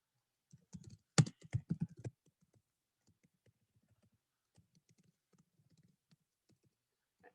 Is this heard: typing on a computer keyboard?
yes